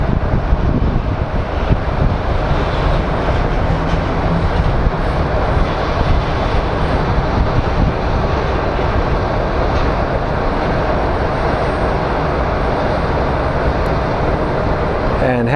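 A Delta airliner at Phoenix Sky Harbor airport gives off a loud, continuous jet roar that fills the whole stretch, with a voice speaking faintly beneath it.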